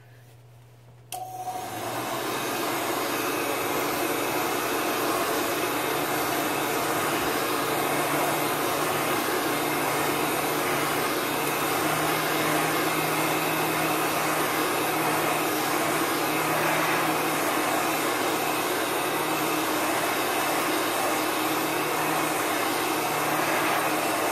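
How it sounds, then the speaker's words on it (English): A heat gun on its hot setting blows steadily to dry chalk paste, a loud continuous whooshing roar that switches on abruptly after a quiet second and holds even, close and alone. "My heat gun has two settings. It has just air that blows, and it has hot, hot, hot."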